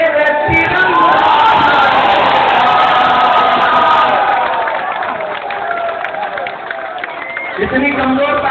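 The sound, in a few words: crowd clapping and cheering at a political rally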